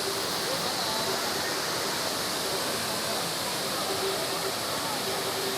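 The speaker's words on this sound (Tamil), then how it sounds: "இதுதான் ஃப்ரெண்ட்ஸ் அந்த அருவி." A waterfall in the Javadhu hills pours in a steady, unbroken hiss of rushing water, loud and close, with faint background voices now and then.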